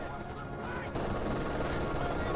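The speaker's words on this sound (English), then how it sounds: "MG42 getting some good suppression there" Sustained MG42 machine gun fire in the WWII strategy game Company of Heroes 2, a dense, continuous rattle of battle noise that grows louder partway through, with no voices.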